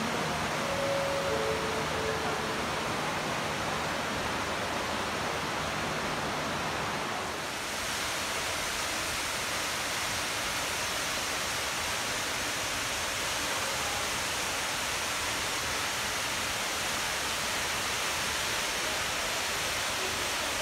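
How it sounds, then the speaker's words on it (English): Running water of a garden display behind a walker near Marina Bay, a dense, steady rushing hiss that fills the scene without pause, loud and close throughout. "I've got running water behind me, so it's making it quite noisy"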